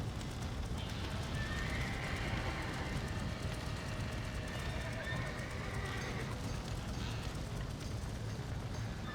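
Horses whinny over a steady clatter of hooves in the video game Red Dead Redemption, with a constant busy rumble beneath and voices faintly mixed in.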